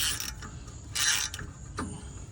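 Bolts are cranked down to push the brake rotor off a Honda Passport hub, producing close, bright bursts of ratcheting and metallic creaking in short spurts over a low steady hum.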